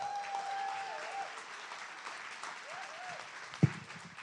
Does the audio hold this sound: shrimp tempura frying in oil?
no